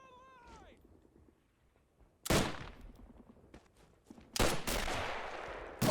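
Rifle shots from a WW2 battle video game set during a fort siege between Axis and Allied troops. A few loud, sharp cracks with ringing decay come after a brief meow-like sound, each separated by quieter background.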